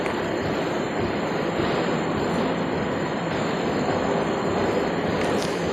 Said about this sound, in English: This is our Siemens cone crusher.